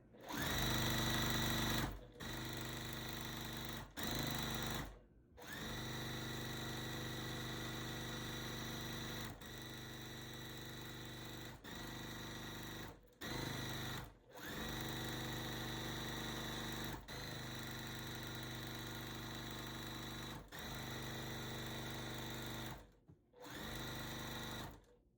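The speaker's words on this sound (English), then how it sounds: "We're sewing on the bottom segment now, and then we'll put the borders" A sewing machine stitches the bottom segment onto a sampler quilt, running in long steady bursts of whirring with brief pauses between runs, close and loud with no talk.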